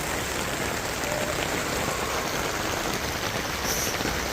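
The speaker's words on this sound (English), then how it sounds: "It is raining." Heavy rain pours down on a backyard chicken coop, making a loud, dense, unbroken hiss of drops hitting surfaces, steady and close with no pauses and no talking.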